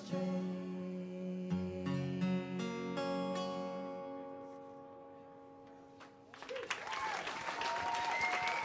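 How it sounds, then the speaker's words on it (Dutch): Audience applause after a trombone ensemble performance in a television studio, starting as the final sustained brass chord fades and swelling into loud, dense clapping for the last few seconds. "Nog één keer applaus"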